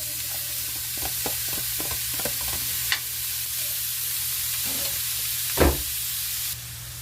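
Ground meat (giniling) sizzling in a pan while being stirred, a steady frying hiss broken by repeated spatula taps and scrapes and one louder clatter, close up, no voices.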